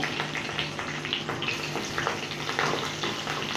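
Green chilies frying in oil in a pan for kanda poha, a steady close hissing sizzle that holds at an even level throughout with no talk over it.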